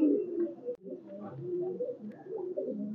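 Red-necked highflyer pigeons at a loft coo in low, soft, rolling calls that sound close by, with a brief pause partway through and no talking.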